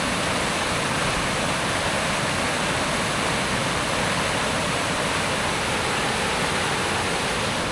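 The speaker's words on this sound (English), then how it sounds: "Look at the speed of the water." Fast-flowing stream water rushes in a loud, constant roar, dense and unbroken from start to finish, in a Kenyan forest.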